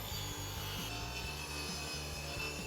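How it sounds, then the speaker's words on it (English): Table saw ripping a straight edge along a board against the fence, a steady loud whine of the blade biting through wood with a continuous low drone and faint rhythmic pulsing, no voices. "Now we're going to run this straight edge against the fence and cut a perfectly straight rip right"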